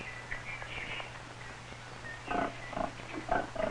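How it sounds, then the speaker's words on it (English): Several farm pigs grunt and snort in a quick series of short, nasal bursts, following a stretch of quieter rustling background noise. "Pigs."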